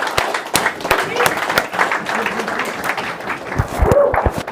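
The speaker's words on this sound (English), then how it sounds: "I also think we need to give a big round of applause to Riley" Audience at a sales event applauds, a dense wash of claps with some sharp individual hits, steady and close for several seconds.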